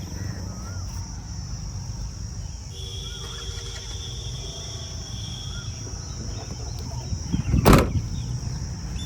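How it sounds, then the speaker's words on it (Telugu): A 2019 Toyota Innova Crysta 2.8 Z AMT tailgate gives a single sharp latch click near the end, heard close and alone over steady outdoor ambience with a high insect drone. "సార్ డిక్కీ కూడా ఓపెన్ చేసి చూపిస్తాను"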